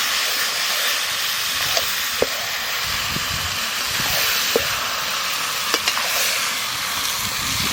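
Mutton being sautéed and stirred in a pan for a Bihari-style curry, a loud continuous sizzle and hiss with occasional scrapes and clacks of the spoon against the pan.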